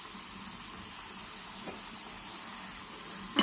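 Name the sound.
beetroot frying in oil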